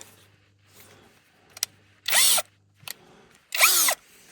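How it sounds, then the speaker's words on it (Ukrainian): Cordless screwdriver driving an Avrora drill bit, two short loud bursts of drilling separated by a pause, with faint handling clicks and a low hum between them. "зараз шуруповерт вставляємо і спробуємо. як як сверлить"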